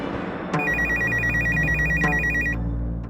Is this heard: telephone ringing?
yes